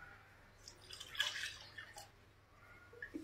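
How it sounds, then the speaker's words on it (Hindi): Water from a freshly cut coconut drips and trickles faintly in a quiet room. A few small splashy spurts rise and fade over a low background hum. "ये देखिए इसकी पानी तो निकल गई काफी ज्यादा।"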